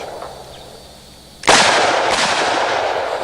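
A single revolver gunshot fired in single action, a sharp loud report at mid-clip followed by a ringing reverberant tail after a quiet lead-in.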